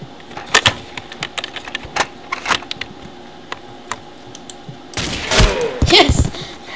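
Gunfire in the blocky shooter video game Ace of Spades: repeated sharp shots in irregular bursts, growing into a louder, denser volley near the end.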